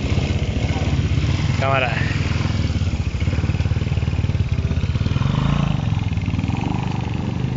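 A motorcycle engine rumbles loudly and steadily throughout the ride, close to the microphone, with a brief spoken word partway through.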